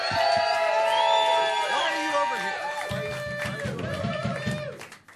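A live variety-show audience cheers, whoops and claps for a band, the crowd noise swelling at first and then tapering off toward the end, with people talking over it.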